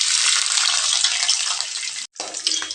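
About ten to fifteen small garlic cloves fry in a pan, giving a steady, close, fairly loud sizzle that breaks off for a moment near the end before resuming.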